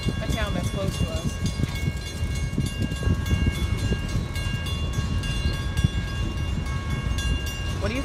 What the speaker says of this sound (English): I think it's cool that a train still comes through our town.